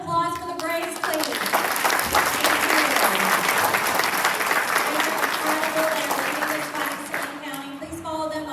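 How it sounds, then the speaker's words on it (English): A large audience at an Arkansas joint congressional district meeting applauds in a loud, sustained round of clapping that fills the whole stretch, with a few voices mixed in near the start and end. "can we have a round of applause for the Braves, please?"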